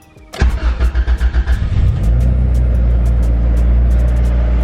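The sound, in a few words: car engine starting up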